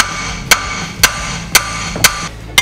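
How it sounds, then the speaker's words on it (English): A metal hammer strikes a seized tie rod end on a 4WD vehicle: five sharp, evenly spaced metallic blows about half a second apart, close and loud over a faint background hum. "hammer on this bit."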